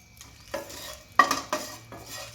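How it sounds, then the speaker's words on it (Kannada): Green chillies frying in a little oil in a pan, with a few sharp stirring scrapes and clinks over a soft, steady sizzle, close and moderately loud. "ಒಂಚೂರು ಆಯಿಲ್ ಹಾಕ್ಕೊತಾ ಇದ್ದೀನಿ ಮೆಣಸಿನ್ಕಾಯಿ ಹುರ್ಕೊಳ್ಳೋದಕ್ಕೆ."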